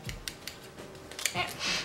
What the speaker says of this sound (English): Oh, I have my tea bag. I can cut that.